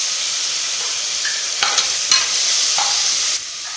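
Ground shallot paste hits hot oil and is stirred, a steady sizzle with a few sharper scrapes of the spoon against the pan partway through, close and fairly loud.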